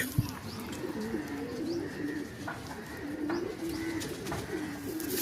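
Pigeons coo steadily and low, a continuous murmuring chorus with a few brighter chirps over a busy background.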